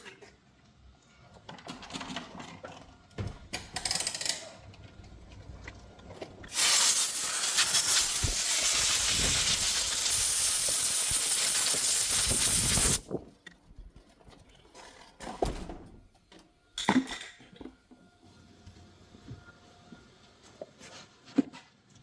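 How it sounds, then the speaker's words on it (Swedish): Compressed air blowing a Briggs & Stratton engine clean, a loud, steady hiss lasting about six seconds, with clattering and handling of parts before and after. "då ska jag bara ta och blåsa rent det här"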